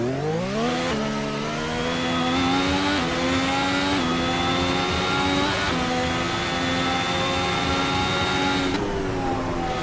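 A race car engine howls on a track with chicanes and a carousel bend, loud and continuous for ten seconds, its pitch climbing and dropping sharply through several gear shifts, with no voices.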